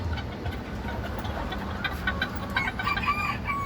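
A broody bantam hen clucks and grumbles nearby, low and continuous, over a steady outdoor background with faint chirps from chicks or other birds.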